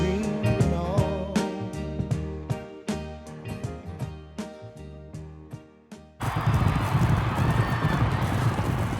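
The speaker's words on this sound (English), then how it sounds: "This Gary Ross-directed horse racing epic, apart from always making me cry, was a pioneer in many ways" Racehorses gallop in the film Seabiscuit: a rapid, drumming run of hooves over music for about six seconds, then a dense, loud roar of racing and crowd noise.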